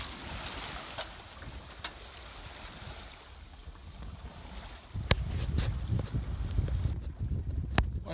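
A sailboat losing way as the wind dies, in 17–18 knots dropping to calm: a soft rush of water and wind along the hull, with a few sharp creaks and knocks, growing into a fuller, louder wash of water toward the end.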